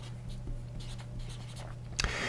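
Pen scratching across paper while the element magnesium is noted down, a soft continuous scribble of short strokes over a steady low hum, close and quiet, ending in a brief louder scrape.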